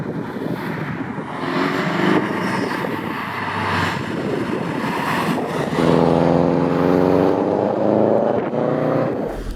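A Subaru Impreza WRX-S hatchback, fitted with a K&N air filter and a Hayward and Scott exhaust, drives and accelerates. Its engine note climbs through the gears with a rising harmonic drone, falls back at a shift, then surges again, loud and close.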